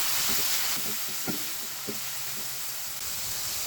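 Chicken sizzles in hot oil with ginger, garlic and green chili, a steady broadband fry hiss with a few soft stirring clinks partway through, close and continuous with no talking.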